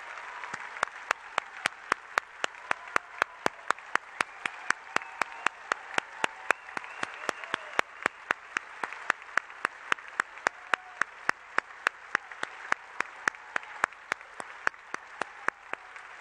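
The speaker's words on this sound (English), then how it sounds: "I want you to stand, and I want to just celebrate you and give you a round of applause." An audience at the PEN literary gala applauds writers standing in the hall, sustained dense clapping from a large crowd over sixteen seconds, with sharp individual claps standing out above the wash and no voices.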